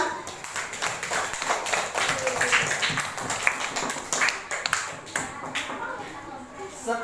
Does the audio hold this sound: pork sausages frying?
no